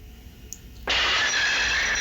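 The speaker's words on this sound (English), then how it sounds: "Her driver threw on the emergency brakes," Near-silence, then a sudden loud, high-pitched screech of train emergency brakes squealing as wheels skid along the line, holding steady to the end.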